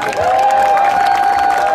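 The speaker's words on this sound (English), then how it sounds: "Another round of applause for Assemblymember Miguel Santiago" Audience at a 2015 city council campaign kickoff rally in El Sereno, a brief burst of loud, steady clapping and cheering from a crowd, with a high-pitched tone running underneath.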